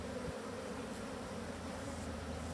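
Honeybees buzz steadily from an opened hive, a faint, continuous, even drone with no talking.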